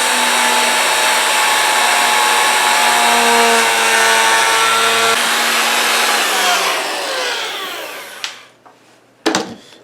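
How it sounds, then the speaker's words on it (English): A router cuts a quarter-inch round over along the top edge of a one-piece guitar body, a loud steady high whine that holds for about eight seconds, then spins down and stops with a couple of faint clunks. "So let's go ahead and start the round over."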